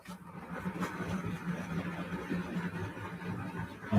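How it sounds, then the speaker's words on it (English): Model railway diesel locomotive, a class 31 or 30 hauling a van train, gives a steady low engine drone with a faint hum, moderately near and continuous without talk. "I can hear the roar of engines coming."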